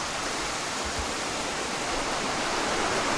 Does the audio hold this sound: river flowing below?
yes